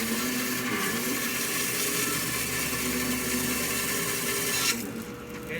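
A Norwood LM30 bandsaw mill fitted with a brand-new sharp blade cuts through mahogany, giving a steady, loud, hissing saw whine that runs for several seconds and then stops abruptly near the end.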